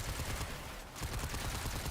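Rapid automatic Space AK gunfire from a sci-fi video game rattles as a dense, continuous stream of shots for just under two seconds, with only a brief dip in the middle.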